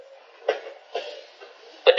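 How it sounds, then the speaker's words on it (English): Three short, harsh coughs spaced through a quiet stretch, the last one louder and doubled, close to the listener with no talking. "Oh, snap, I'm coughing."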